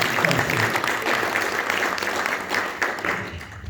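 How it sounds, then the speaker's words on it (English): A crowd claps at a VIP celebration event at a Hindu temple community centre in Crawley, a loud, continuous applause of many hands filling the room, with faint crowd murmur mixed underneath. "give a big clap to the team who really increasing this diversity and unity"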